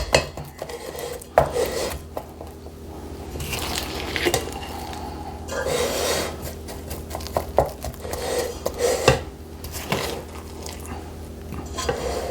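Thick apple cake batter is scraped and spooned into a baking pan, with repeated clinks of a utensil against the pan, wet squishing and rubbing scrapes, and several sharper taps over a steady stretch.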